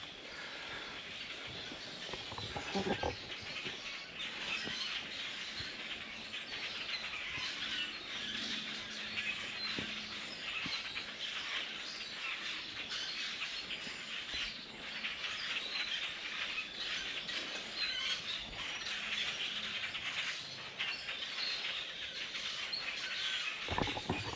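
Birds chirp and call steadily in the trees overhead along a boardwalk trail at the H.R. Frink Centre, against a dense, continuous outdoor hiss, the calls overlapping without clear pauses.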